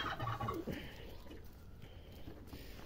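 A turkey gobbles in a short burst of rapid, rattling calls near a farmyard poultry pen, followed by quieter background noise.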